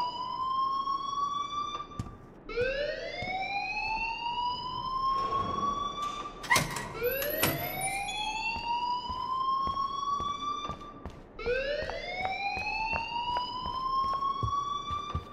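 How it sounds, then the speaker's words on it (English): School fire alarm in the Life Is Strange video game, a loud rising siren-like wail that repeatedly sweeps upward and cycles in long steady waves, with faint clanks in the background. "please turn off that alarm since that's your job."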